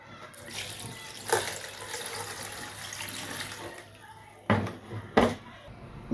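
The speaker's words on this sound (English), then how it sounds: "So now it's time to add water." Water running steadily into a cooking pot for pepper soup, a soft continuous pour with a few sharp knocks of the pot and utensils near the end.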